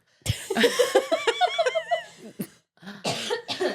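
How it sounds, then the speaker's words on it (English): Someone lets out a sharp cough, followed by a run of breathy, giggly bursts and a couple more short coughs up close. "I have to cough."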